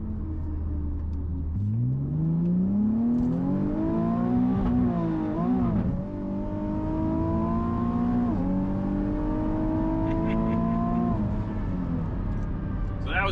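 A Nissan 370Z street and track car accelerating hard, engine climbing loudly through gears with rising revs and shift dips, traction control audibly cutting power in stutters, close and sustained.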